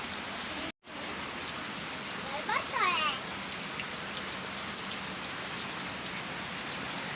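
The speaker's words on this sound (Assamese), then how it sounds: "বৰষুণটো একদম দিয়ে আছে মানে ৰখিবলৈ নামেই লোৱা নাই" Steady heavy rain pours down in a hilly Arunachal village, a dense continuous hiss of drops on surfaces with a faint brief voice partway through and a momentary dropout near the start.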